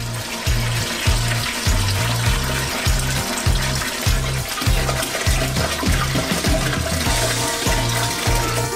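Five litres of milk poured from an opened carton into a large bowl for a giant chocolate bar recipe, a steady, full splashing gush that continues unbroken, with a rhythmic low thumping beat running underneath.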